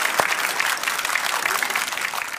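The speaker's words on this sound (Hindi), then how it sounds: "ताली बजाइए भाई जोर से" Studio audience at a televised Hindi debate show claps loudly and steadily, a dense even patter of many hands with no talk over it.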